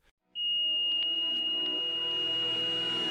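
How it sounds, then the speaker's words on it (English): A piercing high-pitched alarm tone sounds continuously and loudly, holding steady after it abruptly starts, with a low hum underneath. "Suddenly the fire alarm blared through the building."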